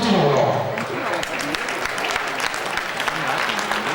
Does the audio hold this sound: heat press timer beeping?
no